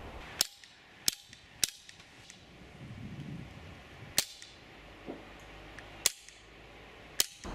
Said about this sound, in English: when you pull that trigger, it gives a real thump in your hand